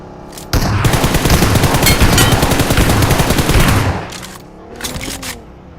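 Loud rapid automatic gunfire in a battle-royale style shooter video game, a dense sustained burst of shots for about three seconds, then quieter scattered shots and faint scraping.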